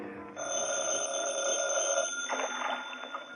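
Telephone ringing in an office as a radio drama sound effect, a steady electric bell trill sounding clearly for about two seconds before it stops and faint rustling follows.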